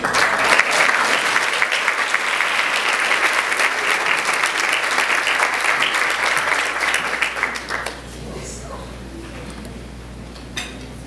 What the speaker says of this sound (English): Please give President and Mrs. Bivens another round of applause